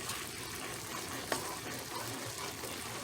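Seasoned ground beef is stirred in a pan over medium-low heat, giving a soft, steady sizzle with faint scraping and one small clink.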